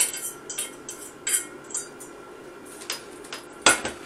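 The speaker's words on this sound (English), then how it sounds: "Now I'm going to put the pastrami on the plate, just to get it out of the way." Plate and pan clatter during kitchen work while pastrami is moved onto a plate, with a few sharp clinks and knocks scattered across the moment, the loudest near the end, over a faint steady background.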